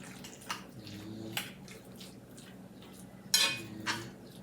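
Spoon working mayonnaise into a cauliflower casserole, soft wet squelching and scraping with a few sharper knocks against the dish, close and quiet with no talk.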